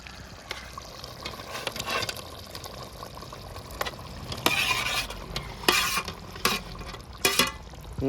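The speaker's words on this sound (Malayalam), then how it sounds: "നമുക്ക് ഇളക്കി കൊടുക്കാം" Fish goes into a spicy masala curry gravy and is stirred in a pot for a wedding-style village fish curry, giving soft sizzling under irregular scraping and clinking strokes, close and fairly quiet.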